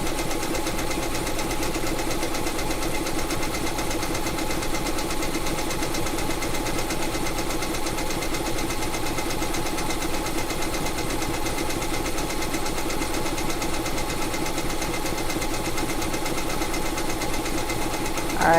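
Embroidery machine stitching a design, a steady dense mechanical whir and rapid needle clatter running continuously at even loudness throughout, with no voices.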